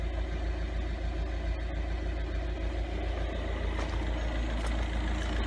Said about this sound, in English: There's a bit of a tick to the engine